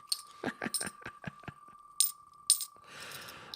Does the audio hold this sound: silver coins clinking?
yes